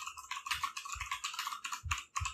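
Quick bursts of keystrokes on a computer keyboard while typing a name into a Canva brand kit, close and crisp with short pauses and no talking.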